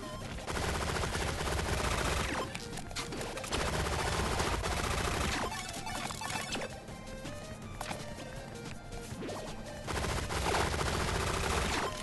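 Rapid automatic gunfire in the video game Relic Hunters Zero, loud and continuous with dense bursts of shots that pause briefly and resume, no talking.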